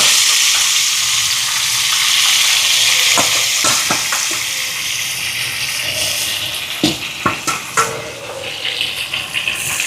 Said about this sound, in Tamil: எண்ணெய் சூடாயிட்டு இறாலை பொரிக்க போடுவான்.